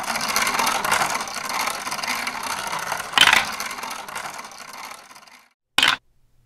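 A savings challenge wheel spins with a steady rapid ratcheting clatter that gradually slows and fades, then a short sharp burst of clicking once it has stopped.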